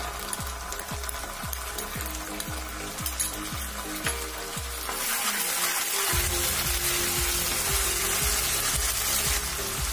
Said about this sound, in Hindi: लहसुन अदरक को भूनते हुए हम